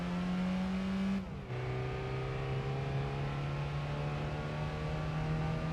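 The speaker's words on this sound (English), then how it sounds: "It is a naturally aspirated 4-cylinder, so you do want to rev it out as much as you can." A naturally aspirated 4-cylinder car engine revs hard in Gran Turismo 3, a steady high-pitched whine climbing, briefly dropping on a gear shift after a second, then droning on at sustained high revs, close and loud.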